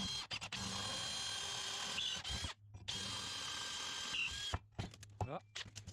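A power drill fitted with a countersink bit works metal for a tractor three-point hitch in a workshop, running in short bursts broken by brief pauses, fairly close and moderately loud.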